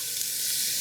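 Diced onion sizzles in olive oil in a saucepan, a steady dense hiss of frying with no talk over it.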